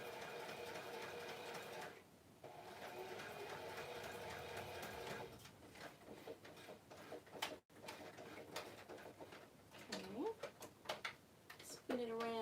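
A sewing machine runs in a home craft setting, whirring steadily at a low level with a brief pause and faint clicks, while someone talks over it.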